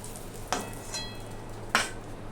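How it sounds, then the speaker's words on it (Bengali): Egg frying in oil in a pan while cooking yam with egg: a faint, steady sizzle broken by two sharp stirring scrapes, close and alone without speech. "ডিমটা আমার সুন্দর করে ভাজা হয়ে গেছে, এখন আমি ডিমটা নামিয়ে নিচ্ছি।"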